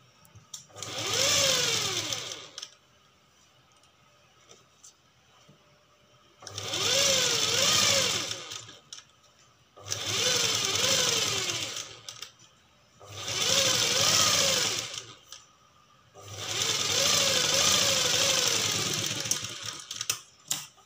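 A sewing machine stitches a half-cut blouse sleeve in five loud, steady whirring runs of about two to three seconds each, separated by quiet pauses, heard close up with no talking.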